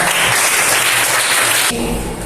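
Applause from a school class after a lesson on cell parts, a dense burst of many hands clapping loudly for about two seconds before dropping off.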